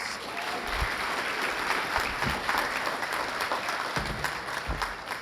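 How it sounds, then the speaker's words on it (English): Steady audience applause fills a police department annual awards ceremony, dense clapping holding at an even level throughout with a few louder individual claps up close. "Give them all a round of applause."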